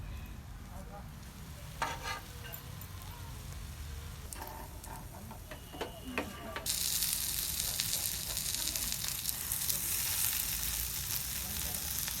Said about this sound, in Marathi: चिमकुऱ्याचे पानं आहेत ना ते तव्यावर फ्राय करून घ्यायचे